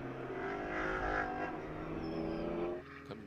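A GT4 race car at Sonoma Raceway accelerates with a loud, steady engine roar that holds strong and then drops off sharply near the end.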